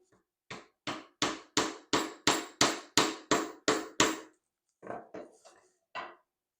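A hammer strikes a nail into wood in a steady run of ten sharp, evenly spaced blows, followed by a brief pause and a few lighter taps.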